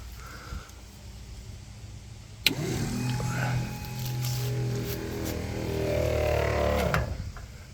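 A car wash multi-task pump system runs, then cuts off as a fail-safe, leaving a steady mechanical hum with whines and clunks in a workshop-like space.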